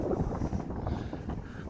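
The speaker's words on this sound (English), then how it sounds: "it's breezy and windy and rain" Breezy, rainy wind at Ribblehead Viaduct buffeting the microphone, a continuous low rumbling gust that fills the short moment with no voices.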